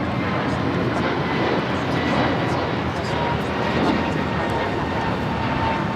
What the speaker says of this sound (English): This is American Airlines 658 taking off to Miami on the A321neo.